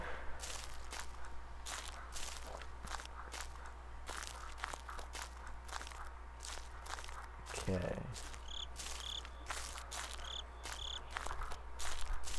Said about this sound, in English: Yeah, there's crickets.